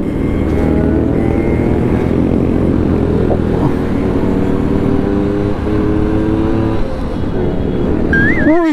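Several Suzuki RC100 Bravo motorcycles ride together on the road near Bogor, making a loud, steady engine drone close up with shifting revs and a wavering horn-like tone near the end.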